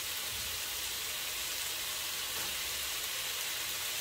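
Carrots and mushrooms fry in a pan for a burrito filling, a steady, even sizzle with a hissing, crackling texture that carries on throughout, with no voices.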